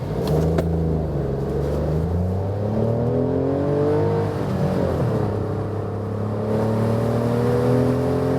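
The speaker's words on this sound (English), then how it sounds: "So now from standstill, acceleration." 2018 Toyota Aygo facelift accelerating from standstill, its small engine droning and climbing in pitch through several gear changes, heard steadily from inside the cabin.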